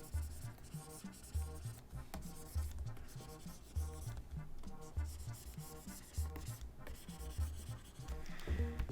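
Pencil sketching a bottle on paper: rapid, steady scratchy strokes run continuously and close by, with rhythmic rubbing passes and no voices.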